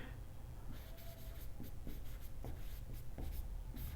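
Chalk or marker strokes on a board during a differential calculus lecture on Euler's theorem for homogeneous functions, a steady run of scratchy taps and scrapes close by with no talking.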